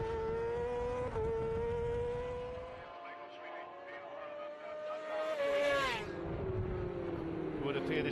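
Racing motorcycles at full power, onboard at the Cookstown 100 road race, whine high and hard, the engine note climbing and dropping through gear changes, with a commentator talking over the noise.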